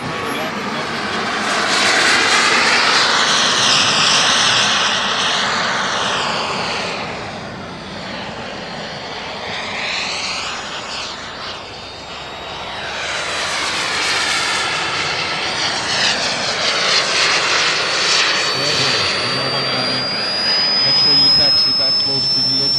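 A Rebel Pro F-86 model jet lands at an airshow with a loud, close turbine whine that rises and falls as it passes twice, its pitch sweeping with each pass.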